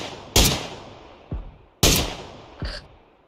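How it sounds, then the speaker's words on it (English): Gunfire in the PUBG battle royale game: two loud, sharp shots about 1.5 seconds apart, each followed by a fainter second crack and a decaying echo, with no talking. "he's shooting me"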